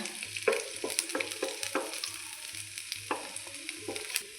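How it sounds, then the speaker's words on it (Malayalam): Garlic sizzles in hot coconut oil with a steady close crackle, broken by the scrape of a spoon stirring the pan. "ഈ വെളിച്ചെണ്ണ ചൂടായി ഇതിലേക്ക് നമുക്ക് ഈ വെളുത്തുള്ളി ഇങ്ങനെ ഇട്ട് കൊടുക്കാം വെളുത്തുള്ളി ഒന്ന് മൂക്കട്ടെ"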